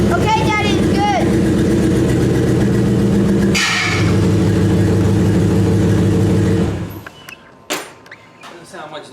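A 1953 Buick engine runs through a modified exhaust with a loud, steady rumble that cuts off abruptly near the end, leaving faint clunks and voices talking briefly.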